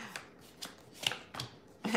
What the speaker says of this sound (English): All right, one more shuffle, Aquarius.